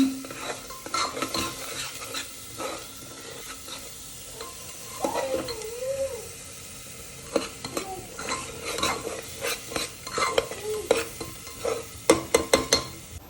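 Spicy masala for a drumstick curry is stir-fried in oil until the oil separates, with a soft constant sizzle broken by repeated spatula scrapes and clinks against the pan that grow quicker toward the end.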